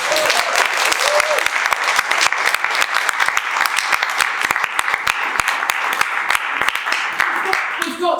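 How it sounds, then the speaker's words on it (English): Loud, sustained applause from a crowd at an education talk, dense clapping with sharp individual claps standing out and a voice briefly at the end. "round of applause for that"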